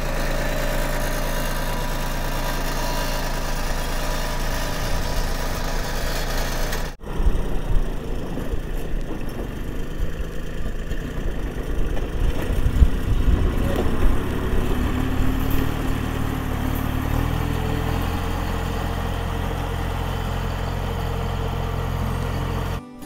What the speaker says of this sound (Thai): เดี๋ยวพายเบิ่งนะครับการทำงานของรถไถเล็ก